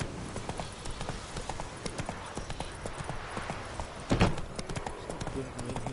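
Horse hooves clip-clop at a steady walking rhythm in The Witcher 3, close and continuous for several seconds, with a brief louder thump near the end.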